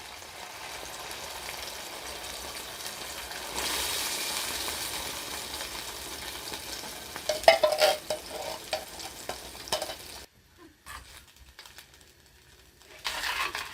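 Canned baked beans, a cheap supermarket tin, cooking in a pan with a soft steady sizzle and scraping stirs, a few sharper clatters near the middle, then a brief lull before the sizzle returns.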